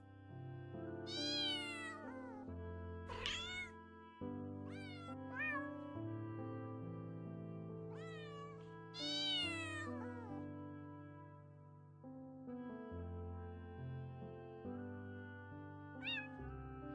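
Cats meow in the video game Silktrails 2 in a string of stylized, tonal cries, some rising and bending, a few short and others drawn out, set over steady sustained game music with no talking.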